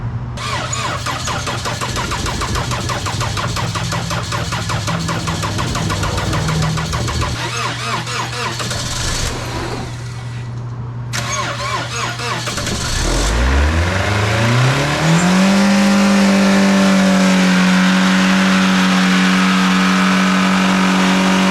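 An engine turns over after an oil change, cranking unevenly for several seconds, briefly cutting out, then catching and revving up to a loud, steady, high-pitched running tone close to the microphone.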